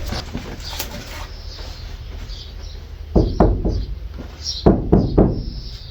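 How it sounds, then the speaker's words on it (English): Knuckles knock on a camper van's metal panel that is partly covered with sound-deadening material, giving two close clusters of dull, damped thuds, three or four raps each, over a steady low background hum. "It's still knocking on metal, it doesn't eliminate sound, but it does sound less tinny."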